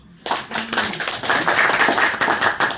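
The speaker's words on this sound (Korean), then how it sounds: "박수 한번 쳐" Audience at a completion ceremony breaks into loud, sustained clapping after a brief silence, a dense close patter of many hands that holds steady to the end.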